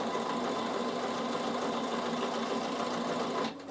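A Bernina sewing machine stitches a fabric basket with a fast, steady mechanical whir and needle chatter, close and continuous, stopping abruptly near the end.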